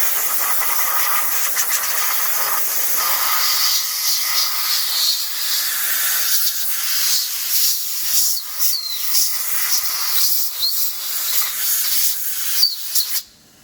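Compressed air hisses continuously as coolant is blown off a BMW differential part on a machining centre, a loud close spray with fluctuating bursts before cutting off at the end.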